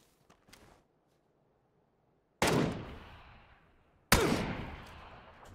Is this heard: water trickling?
no